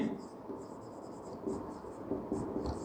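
Chalk or marker writing on a classroom board during a metallurgy lesson: soft scratchy strokes in short irregular bursts, faint and close, with quiet room noise and no talking.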